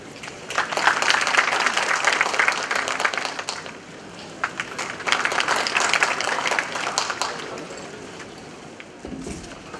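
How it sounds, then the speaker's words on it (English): An audience gives a welcoming round of applause for a speaker at a professional event, a steady wash of clapping that dips briefly, swells again and then fades out. "I request all of you to please welcome with a big, big round of applause."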